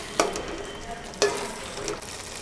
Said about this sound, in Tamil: கடைக்கி விட்டு நம்ம எண்ணெய் பிரிஞ்சு வர வரைக்கும் ஒரு 10 நிமிஷம் வதங்கிட்டுங்க